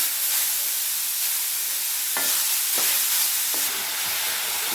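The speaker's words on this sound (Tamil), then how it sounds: "இப்போ இந்த நெய்யிலேயே நம்ம கேரட் துருவி வச்சிருக்கதை சேர்த்துப்போம். நல்லா வதக்கிப்போம்." Grated carrot sautéing in ghee for carrot halwa, a continuous hiss of frying with a few soft stirring scrapes, and no one speaking.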